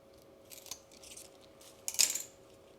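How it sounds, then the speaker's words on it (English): Scissors snipping through a Tradescantia (inch plant) stem between two nodes, faint handling rustles followed by one crisp, close metallic snip. "I will cut it right in between these 2 nodes right here"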